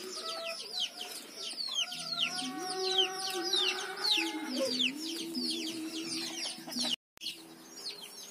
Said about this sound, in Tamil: இப்ப பாத்தீங்கன்னா என் கோழி வந்து தக்காளிய சாப்பிட்டுட்டு இருக்கு.